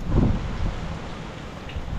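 Rain falling as a storm approaches near the sea, a brief steady wash of rain noise with low rumbling gusts, fairly close and alone without voices.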